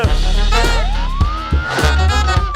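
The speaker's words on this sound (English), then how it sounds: "I think I hear a siren in fact" A loud police siren wails close by, sweeping up and down continuously over a thumping bass beat of music.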